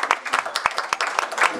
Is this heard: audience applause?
yes